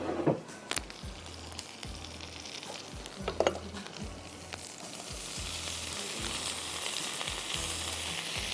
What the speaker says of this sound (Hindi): ज़रा सा गार्लिक फ्राई हो जाएगा तो हम इसमें वेजीज डाल देंगे।